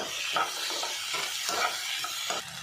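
Green chilies and tomato sautéing in a pan for paneer butter masala, a steady broadband sizzle with rhythmic stirring scrapes about every half second, close and alone.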